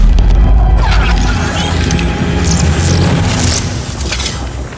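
A red solar grenade goes off in the fighting game Injustice 2, a loud, heavy boom with deep low rumble that rolls on and slowly settles over nearly five seconds, no talking over it.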